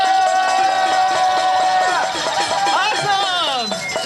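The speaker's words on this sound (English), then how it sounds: "Who brought their noisemaker?" A climate rally crowd in San Francisco whoops and cheers loudly, with sliding, pitched noisemaker and voice tones layered over a busy crowd din.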